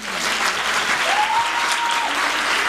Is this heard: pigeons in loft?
no